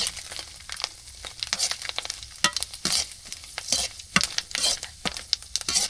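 Semai vermicelli fries in oil in a pan over a wood-fired village stove, with steady crackling sizzle broken by frequent scraping stirs and clicks close by.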